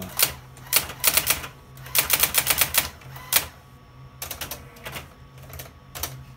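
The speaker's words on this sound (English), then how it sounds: "So let me type a little more." Keys strike on a manual typewriter in quick, irregular bursts of clacks, close and crisp, with short pauses between runs of typing.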